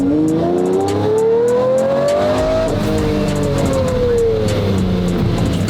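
A Lamborghini Murcielago under way, its engine rising in pitch through a long pull, easing briefly, then building again, loud and close from inside with road rumble beneath.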